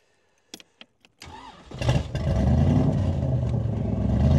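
A few clicks and clunks, then the engine of an ERA Cobra 427 A/C replica cranks and catches, settling into a steady, loud idle close by.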